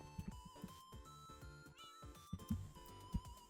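Cat in Minecraft meowing several times in short, close calls mixed with small game sound effects.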